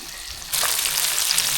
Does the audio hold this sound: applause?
no